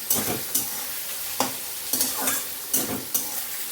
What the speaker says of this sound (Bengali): তো প্রথমেই দিয়ে দেব হচ্ছে কেটে রাখা পেঁয়াজ রসুন টমেটো একবারই দিয়ে দেব সর্ষের তেলে রান্না হবে